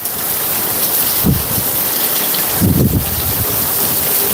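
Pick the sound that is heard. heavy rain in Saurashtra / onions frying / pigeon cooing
heavy rain in Saurashtra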